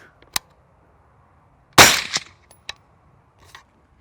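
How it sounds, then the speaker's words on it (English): A suppressed rifle shot through a Dead Air Primal suppressor cracks out once, loud and sharp, then fades in a short echo, with a few quieter clicks and knocks before and after. "we just got done shooting the Dead Air Primal, which is probably the most caliber versatile suppressor I've come across"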